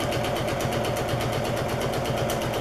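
A sewing machine stitching a fabric utility bag, with a steady, even mechanical whirr and rapid needle rhythm running continuously at close range, with no talking.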